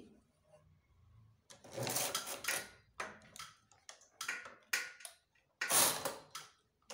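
A hand-operated knitting machine making sweater stitches, bursts of clattering carriage passes and ticking mechanical clicks separated by short quiet gaps, close and fairly loud.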